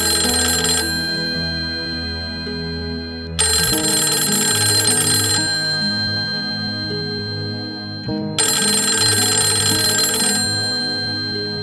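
A telephone bell rings loud and close in three long bursts separated by short silences, a repeating old-style ring used as a sound effect in a Bengali audio drama, with no voices over it.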